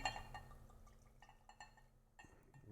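Redbreast 12 Year Cask Strength Irish whiskey poured neat into a glass: a faint, brief trickle and a few soft glassy clinks, very quiet against low background hum.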